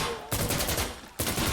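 Video game gunfire erupts in two loud, dense bursts of rapid shots, broken by a brief lull near the middle, close and dominant with no talking.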